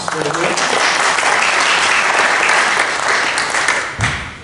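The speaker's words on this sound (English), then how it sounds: "she deserves a round of applause" A church congregation applauds a musical performance during a service, the clapping sustained and dense throughout before fading away at the end.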